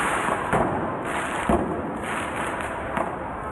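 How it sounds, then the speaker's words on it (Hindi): Firecrackers set off on a road during a street protest: a rapid string of sharp cracks and pops at roughly half-second intervals over a constant noisy background. "उन्होंने सड़क पर पटाखे छोड़ दिए"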